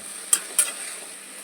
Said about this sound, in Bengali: সবজিগুলো দিয়ে দিয়েছি এবার ভালো করে এটাকে নাড়িয়ে চালিয়ে নেব